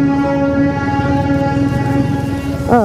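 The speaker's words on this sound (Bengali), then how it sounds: "একটা ট্রেন চলে গেল।" A train passes close by in the hills of Kurseong, giving a loud, steady, horn-like harmonic drone over rhythmic low rumbling and clacking that lasts the whole stretch, with a rising tone near the end.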